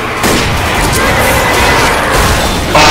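Explosive blast from a thrown pipe bomb in Left 4 Dead, loud and dense, with a sustained roar of gunfire and chaos around it and a sharp burst near the end.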